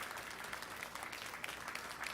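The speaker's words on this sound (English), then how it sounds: "Let's give that group of showmen a big round of applause." Applause from the audience at a junior fair sheep show, a faint, distant patter of clapping that holds steady for a couple of seconds.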